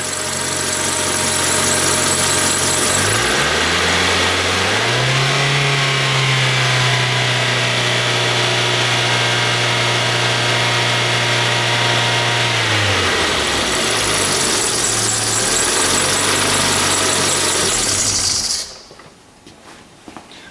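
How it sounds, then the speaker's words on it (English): Car engine at tick-over during an alternator test, a steady loud hum whose pitch rises slightly as the revs are raised, holds, then falls back before the sound cuts out. "I'm just going to bring the revs up very slightly just to see what it stabilises at."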